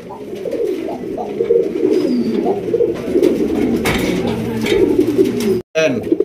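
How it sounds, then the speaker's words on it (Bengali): Several domestic pigeons coo in low, throaty, repeated calls close by, overlapping in a steady rhythm, with a brief cut near the end. "আমার প্রত্যেকটা কবুতরই এইভাবে ডাকে"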